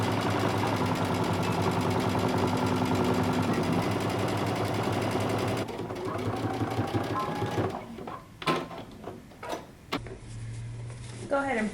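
A sewing machine stitches a jumpsuit bodice seam at a 5/8-inch allowance, running in a fast steady close whir for several seconds before giving way to a few sharp handling clicks and knocks.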